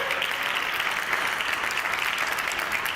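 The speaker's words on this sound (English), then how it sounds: "You can clap." Steady applause from an audience at a storytelling festival, a dense even patter of many hands clapping throughout with no break.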